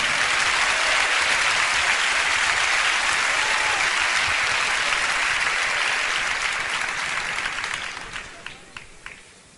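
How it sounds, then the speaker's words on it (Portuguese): Applause from an audience at a Christian testimony event, steady and dense throughout, then thinning into a few scattered final claps near the end. "Pode aplaudir, isso é bom"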